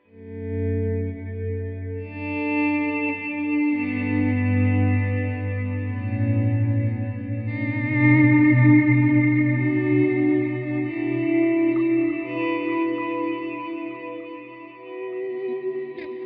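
Guitar volume swells run through a Line 6 POD Go with octave, delay and reverb, layered sustained tones fading in and blooming into a dense, echoing wash of chords with no voices.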